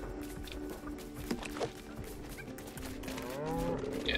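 Cow in LEGO Fortnite video game gives a short, faint moo amid quiet game ambience and light footsteps.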